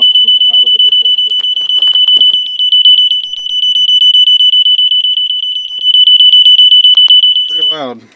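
Gentex 710CC photoelectric smoke detector sounding its alarm, a piercing high continuous tone pulsing rapidly, very loud and close, with brief talk under it near the end.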